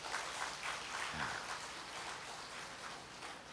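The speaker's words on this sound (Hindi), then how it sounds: "एक बार ताली बजाइए।" A hall audience claps together in a dense, steady wash of applause that holds evenly for a few seconds.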